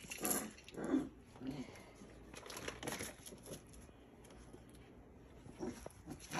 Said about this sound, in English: Are you barking at the little guy in there?